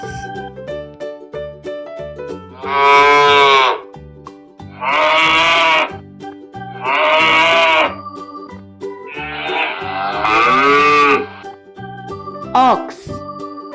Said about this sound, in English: ox